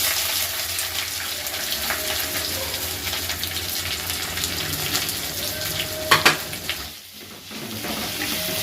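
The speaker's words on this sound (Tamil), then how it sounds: "வெங்காயம் நல்லா வதங்கட்டும்." Onions sizzle in hot oil with fennel seeds, bay leaf, cinnamon and curry leaves, a loud continuous frying hiss with a brief clatter near the end.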